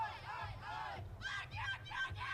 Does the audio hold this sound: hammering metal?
no